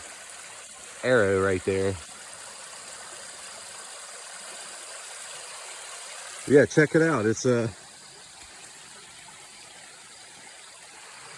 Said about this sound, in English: they come together to make this little creek